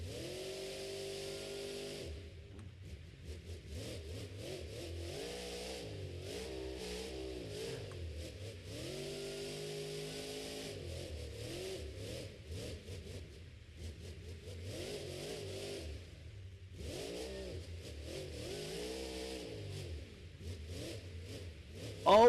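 The Terminal Velocity monster truck at a Monster Jam stadium show in Detroit revs hard, its engine climbing and falling in repeated loud surges and sustained roars across a long stretch with no talk.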